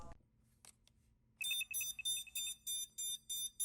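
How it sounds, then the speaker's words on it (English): A rapid series of short, high-pitched electronic beeps in regular bursts from the motors of a lost FPV drone (Skyzone AtomRC Dodo D135), loud and close, following a quiet stretch with a few faint clicks. "this will provide audible beeps from the motors when the model is lost"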